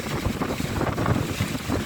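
Wind blowing hard across the microphone at a steep hillside spot in Carmona, producing a loud, gusty rumble that fills the short moment with no voices.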